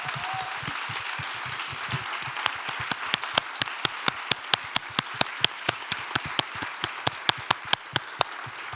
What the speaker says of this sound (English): So if we could all give one round of applause to all our presenters